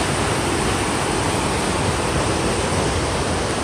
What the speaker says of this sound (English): this is what the Merced River looks like on a heavy snowfall year. As you can see, it is rushing.